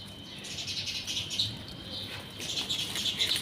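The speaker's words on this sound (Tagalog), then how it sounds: "naririnig nyo ba yung ibon? Siyempre, umaga pa lang, kaya may ibon." Small birds chirp in scattered high calls on a quiet morning outdoors during mulberry picking, a steady wash of faint background ambience beneath them with brighter bursts near the start and end.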